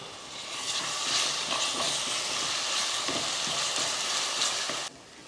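Ginger garlic paste sizzles and hisses in hot oil with onions while cooking a biryani-style rice dish, a steady bright frying crackle with occasional stirring scrapes, close and moderately loud before cutting off abruptly.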